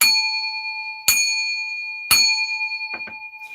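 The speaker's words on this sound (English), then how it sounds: "I'm about to ring a bell." A small bell struck three times at about one-second intervals, each bright, ringing strike decaying slowly, with a couple of faint soft taps near the end.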